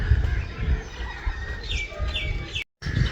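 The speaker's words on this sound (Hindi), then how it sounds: "यहाँ पे एक बड़ी ही प्यारी मुर्गी अपनी चूज़ों के साथ घूम रही है" A hen wanders with her chicks in a Pakistani village gathering place, giving soft repeated clucks and thin high chick peeps over a murmur of outdoor background noise. A short silent gap falls near the end.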